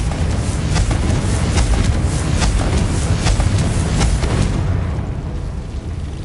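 Confringo fire spell explosion in a Harry Potter video game: a sustained roaring, crackling blast with repeated sharp bursts, loud for several seconds before tailing off into a softer rumble.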